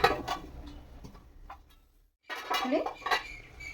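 A lid is set onto a cooking pot of simmering vegetables and neem leaves, giving a few sharp metallic clinks and clatters close by, with a brief quiet gap before more clanking.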